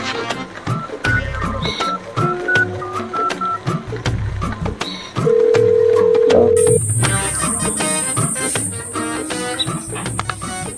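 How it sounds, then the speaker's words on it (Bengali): A phone call is placed: a steady electronic dial tone gives way to a sustained high ringback tone for several seconds, with background music and scattered sound effects running underneath throughout. "দাঁড়া, সিআইডি দেরকে একটু ফোন করি।"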